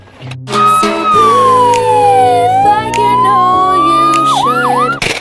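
A toy ambulance plays a loud, close electronic siren that wails in sweeping rising and falling tones over a tinny melodic backing, ending in quicker warbling swoops.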